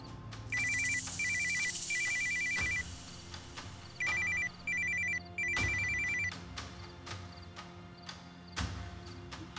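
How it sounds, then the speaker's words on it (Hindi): A phone rings in several short electronic bursts, each a repeated trilling tone, with pauses between and a faint room background. "किसका फोन है?"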